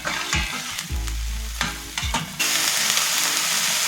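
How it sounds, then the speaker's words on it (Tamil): Curry leaves, green chillies and onion sautéed in a pan, with a few scraping stirs over a crackling sizzle, then a steadier, louder fry for the last second or so. "கருவேப்பிலை, பச்சை மிளகாய் எல்லாமே போட்டு நல்லா வதக்கிக்கலாம்."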